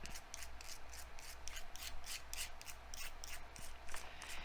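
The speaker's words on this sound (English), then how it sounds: "this emery board will work. You want to take the shine off of it." An emery board scratches across a paper page in an altered book to dull its shine, giving quick, rhythmic rasping strokes that repeat close up with no talking.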